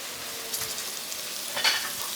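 Bacon crisping inside a Ninja Foodi Smart Lid OL701 gives a steady, moderately close sizzle and crackle throughout, with a couple of brief louder pops and spits near the middle and end, and no one talking.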